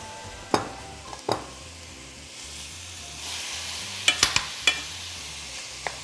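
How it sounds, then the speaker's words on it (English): Ground beef browns in a pan with a soft, low sizzle, broken by a few sharp clanks and scrapes as the meat is stirred and pushed around. "Next up, we have our ground beef. Want to get this browned in there."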